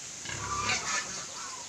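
A sow, a first-time mother on a Philippine farm, gives low grunts and snuffles close by, rising and falling over a few seconds.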